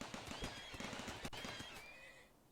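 Horses in the RimWorld video game whinny and neigh in a faint, close clip, over a scatter of hoof-like clatter and a sharp crack partway through, with no talk.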